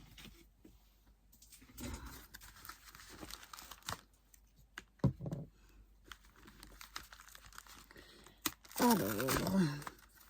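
An envelope is torn open by hand during a scrapbooking Advent calendar project, giving faint scattered rustles and then a louder tearing burst near the end, with quiet talk in between.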